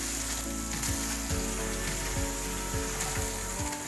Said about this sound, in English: Now we're searing our fish today to give it a little more texture